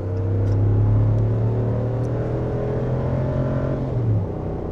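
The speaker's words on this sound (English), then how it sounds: "The Hemi engine, even on full acceleration, is not going to blow you out of the cab" A Hemi V8 pickup truck towing a trailer accelerates hard, its steady low engine drone rising smoothly in pitch as it pulls, heard from inside the cab at moderate loudness before easing off near the end.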